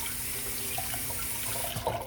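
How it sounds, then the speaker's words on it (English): Asparagus spears being scrubbed under a warm running tap at a kitchen sink: steady close water flow with a few light splashes and rubbing sounds near the end, no talking. "we're going to scrub these good in warm water"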